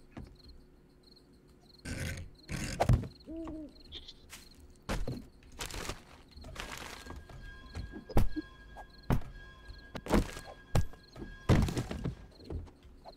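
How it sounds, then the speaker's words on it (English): Fire axe chopping wood in 7 Days to Die: a series of heavy, sharp thunking strikes at uneven intervals, close and fairly loud, over a faint game ambience with brief voice sounds in places. "the fucking fire axe is remarkably bad at cutting wood"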